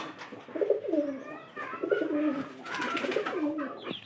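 Pigeons coo repeatedly close by, soft throaty calls overlapping one another with a brief flutter of higher chirps.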